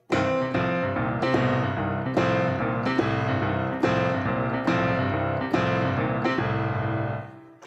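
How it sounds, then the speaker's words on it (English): Solo piano drives a fast blues shuffle, dense chords pounded in quick, even swinging pulses at a steady loud level until the final chord rings out. "And then into a fast blues shuffle."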